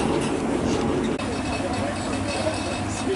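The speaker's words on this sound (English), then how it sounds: "the loco is just going to come back around to the front using this additional track to my right" Locomotive of the West Coast Wilderness Railway in Tasmania running along a siding at Lower Landing, a loud, steady rumble of engine and rolling wheels that fills the whole moment with no pauses.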